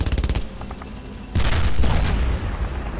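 MG-42 machine gun fire in the World War II shooter Brothers in Arms, rapid bursts close by, with a quick stutter of shots, a pause, then a heavier sustained barrage of gunfire and blasts.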